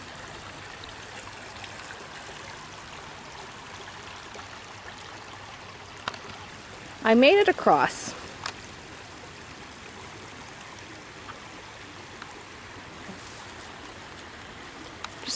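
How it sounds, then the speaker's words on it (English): A spring stream flows along a hiking trail at the Todd Nature Reserve, a steady close trickle and babble of water that runs throughout, with a short spoken line partway through. "Just going to enjoy the sounds of the stream before we continue our hike."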